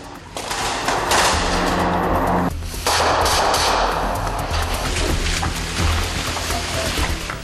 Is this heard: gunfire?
yes